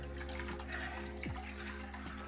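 Boiling water is poured into a frying spice mix in a pan, a soft steady liquid pour and sizzle over a low constant kitchen hum.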